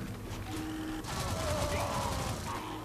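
A Gatling gun firing in the video game Shank, a fast sustained mechanical rattle of shots with a low rumbling bed, growing louder partway through alongside other game effects.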